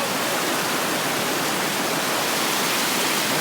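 A creek still running at good flow late in the season on a snowy hike up Mt. Adams gives a steady, dense rush of water with no break or voices.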